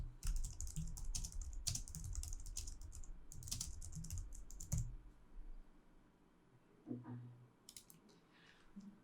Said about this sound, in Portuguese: fazer a marcação e digitar os meus comentários